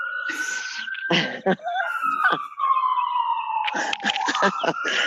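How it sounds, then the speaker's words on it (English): A wailing siren in New York glides slowly downward through the clip, fairly loud, with a cough and bursts of rustling noise breaking in over it. "I can hear the sirens in my ear."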